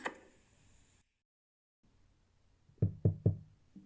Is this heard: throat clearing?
no